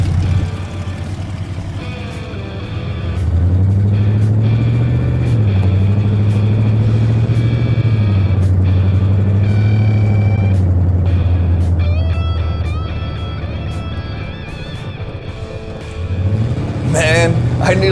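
A large monster truck engine rumbles and revs steadily as it drives, its deep drone rising and falling, with people talking over it throughout.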